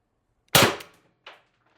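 A TR50 Torpedo CO2 gun with a tuning barrel and 36g CO2 cartridge fires a 12.7mm ball bearing: one sharp, loud crack followed by a fainter short impact or echo a moment later, with no talking.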